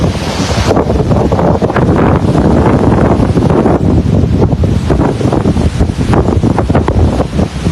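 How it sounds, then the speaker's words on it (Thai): Strong stormy wind buffets an outdoor microphone in an elephant camp in southern Thailand. It produces a loud, continuous roaring rumble with gusty surges throughout and no voices. "ลมแรงมากครับ"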